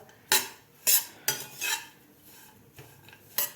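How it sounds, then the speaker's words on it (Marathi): A spoon scrapes and clinks repeatedly against a hot kadai as roasted coconut and sesame are stirred off the heat for Raja Rani chutney; sharp close strokes come in an irregular rhythm with no talking. "गॅस बंद केल्यानंतरसुद्धा आपल्याला हे एक मिनिटभर असं हलवत राहायचं आहे कढई गरम आहे"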